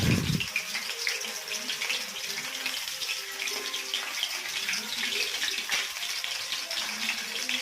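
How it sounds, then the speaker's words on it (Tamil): Soya meal maker chunks deep fry in hot oil in a kadai, giving a steady, dense sizzling and crackling hiss throughout, close and moderately quiet, preceded by a brief low thump at the start. "நம்ம ரெடி பண்ணி வச்ச மீல் மேக்கரை அதில் போட்டு நல்லா பொரித்து எடுத்துக்கலாம்."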